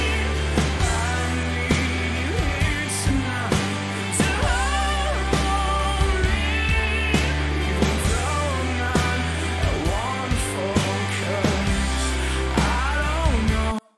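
A full-band song, mixed with oversampled stock REAPER plugins, plays loud and continuous throughout with dense instrumentation and steady volume until it cuts off at the end.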